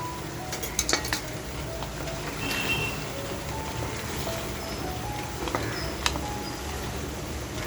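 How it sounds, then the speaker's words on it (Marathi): Spoon stirring mutton masala in a metal pot after green chili and coriander go in, with scraping, clinks against the pan and a low sizzle running steadily throughout, close and moderately loud. "त्याच्यानंतर बघा हिरवी मिरची आणि कोथिंबीर टाकून छान असं मिक्स करून घेऊया."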